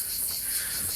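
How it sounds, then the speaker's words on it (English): Cicadas in Cyprus give a dense, unbroken high-pitched buzz that holds steady and fairly loud through the whole second, with no other sound. "cicadas everywhere"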